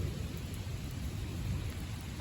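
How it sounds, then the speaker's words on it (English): Light rain falls steadily during a thunderstorm, a soft, even hiss of drops with a low background rumble, faint and unbroken, with no voices. "It's just a light rain."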